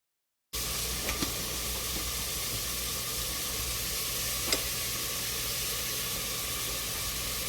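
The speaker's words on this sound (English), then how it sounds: "Cutting my onions, I like to fry them in the meantime" Onions fry in a pan while cooking jollof rice, giving a steady, even sizzle that runs without a break after a silent start, with a few faint clicks and a small pop partway through.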